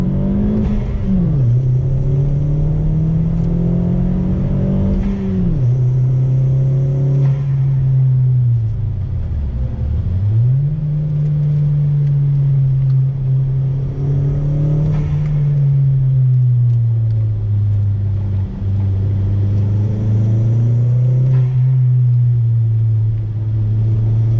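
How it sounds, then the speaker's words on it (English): A turbocharged Chevrolet Sonic engine drones loudly through repeated pulls, pitch rising and dipping with each gear change, steady and close with no talking. "Let's do a little acceleration test. Rolling in first gear, on throttle."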